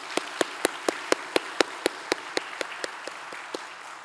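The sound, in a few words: church congregation applause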